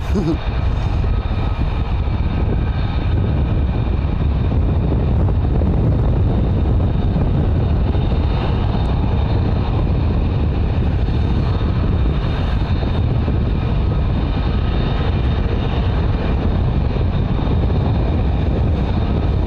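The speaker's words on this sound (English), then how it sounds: "It's quite a struggle up here in the wind. It's blowing the camera around up and down side to side" Strong wind buffets a camera and microphone at RAF Lakenheath, producing a loud, continuous low rumble with gusty surges and rustling that fills the whole stretch, no speech over it.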